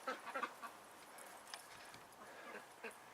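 A dog barks far off in short, scattered bursts from the middle of a lake in winter, over steady outdoor background noise, faint and echoing across open space.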